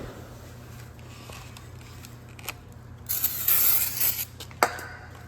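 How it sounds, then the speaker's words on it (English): Brake cleaner sprayed onto a front brake disc of a 2013 Kia Sorento 3.5L AWD, a single close hissing spray lasting about a second, followed by a sharp click amid light workshop rustling. "we can just hit it with a little bit of brake cleaner and wipe it off"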